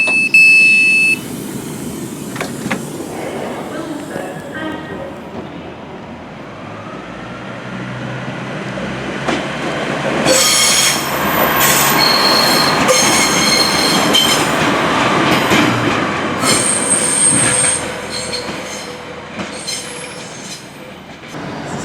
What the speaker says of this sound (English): So that pacer train was slightly running a bit late, but we managed to capture it at Crewe.